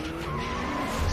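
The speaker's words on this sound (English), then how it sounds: "Smoking tires, doing burnouts." A car's tires squeal in a sustained, loud skidding screech during a burnout, steady and close for about a second.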